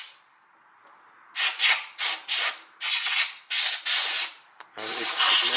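Compressed air blows through an automatic transmission filter from a Toyota Camry in a series of sharp, close hissing bursts, about eight short blasts and then a longer one, each separated by brief quiet gaps.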